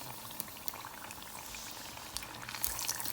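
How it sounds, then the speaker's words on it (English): Ramen noodle egg rolls bubble and crackle steadily in hot frying oil, a continuous fizzing boil with occasional sharper pops, close and fairly quiet, with no voices. "the ramen noodle egg rolls are cooking"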